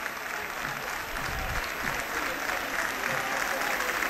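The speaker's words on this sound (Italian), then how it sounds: "Vanno a raccogliere l'applauso dei tifosi rossoneri" Rossoneri supporters of Nocerina at a football match applaud their players after the game, a steady dense clapping from a crowd throughout, with a commentator's voice over it.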